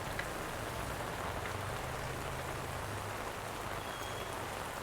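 Steady, continuous rain pours down in Da Nang, Vietnam, during the October rainy season, an even dense hiss with no pauses and no voices.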